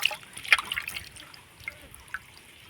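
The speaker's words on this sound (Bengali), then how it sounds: "জল দিয়ে আমি আলুটাকে পরিষ্কার করে এভাবে করে ধুয়ে নেব" Raw potatoes being rinsed in water, with soft sloshes and a few small drips and splashes, quiet and close, with no talking.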